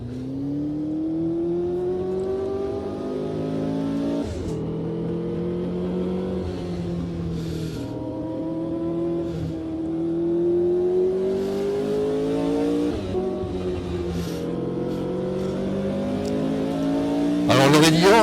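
A Lotus 72E race car engine at Spa-Francorchamps in the Automobilista 2 racing game, revving high through repeated upshifts and downshifts, the pitch climbing and dropping in steady cycles, loud and close throughout.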